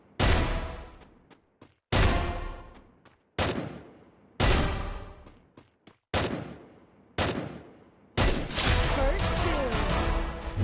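Gunfire from an AN94 rifle in the mobile game Free Fire: six loud bursts of rapid automatic shots, each cut off by a short silence, with the last burst longer and more sustained.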